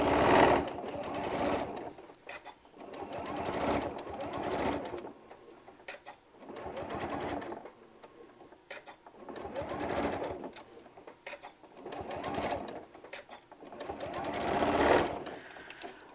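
A sewing machine stitches fabric pieces for a bottle bag holder in steady bursts of rapid mechanical whirring, stopping and restarting about every two seconds, close and loud with no talking.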